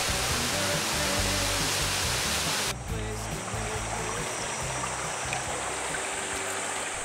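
Clear mountain waterfall beside a road leading into a remote valley village, roaring as a steady broadband rush that stays loud and continuous throughout, with no voices.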